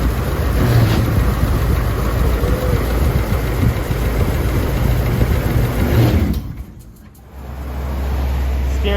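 A 1964 Ford Country Squire station wagon engine runs at a steady idle, loud and close, with a brief dip in level near the end before the low rumble settles back in; no talk.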